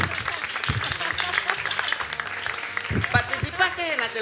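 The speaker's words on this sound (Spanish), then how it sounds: "Fuerte el aplauso para nuestra manejadora, Verónica Nova" Applause from a television studio audience, mixed with crowd noise and some talking, steady throughout.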